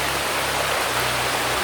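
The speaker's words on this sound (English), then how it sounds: "Okay, we're crossing the water again." Steady rushing water from a stream near Havasupai Falls, Arizona, as hikers wade across it. The broad, even wash of flowing water is close and continuous, with no voices.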